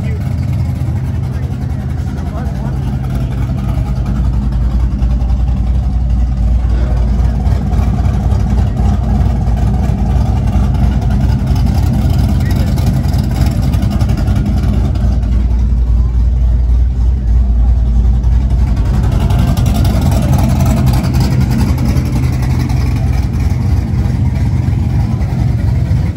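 Fully restored 1980 Chevy Camaro Z28 with big cams idles loudly and close, a steady rumbling engine note that swells and revs around the middle, with voices talking over it.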